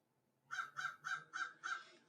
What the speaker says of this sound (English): These crows, man.